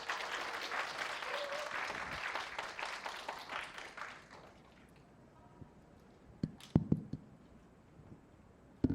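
An audience at a teen camp concert applauds as a student speaker is welcomed, with dense clapping that fades out over about four seconds, followed by a few scattered near thumps and clicks.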